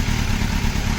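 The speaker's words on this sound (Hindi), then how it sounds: "एक स्लिप ऑन एग्जॉस्ट की आवाज़ सुनाता हूँ मैं आपको।" A Kawasaki Z900 motorcycle fitted with a slip-on exhaust runs with a loud, close, steady engine rumble and slight clatter, holding an even idle throughout.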